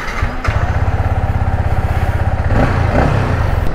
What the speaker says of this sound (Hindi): तो गाड़ी को अभी कोल्ड स्टार्ट करते हैं।